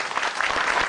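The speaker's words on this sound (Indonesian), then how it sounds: "Tepuk tangan lagi dong." A studio audience at a televised stand-up comedy show applauds in a brief, dense burst of many hands clapping, steady and moderately loud throughout with no voices.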